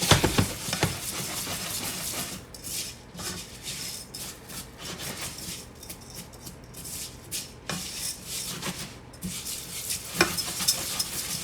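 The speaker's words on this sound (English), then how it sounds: "Let me give this a quick stir." Food in olive oil sizzles in a frying pan while a utensil scrapes and stirs it in uneven strokes, a close, steady crackle with soft rubbing sounds and no talking.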